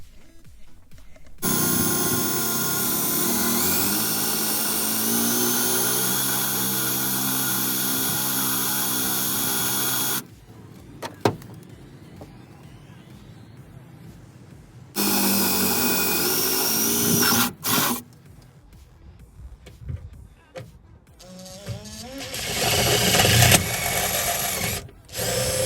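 A power drill bores holes through the bed of a Toyota Tacoma pickup to mount a bed extender bracket, running in several long sustained whining bursts with quiet pauses and tool handling between them.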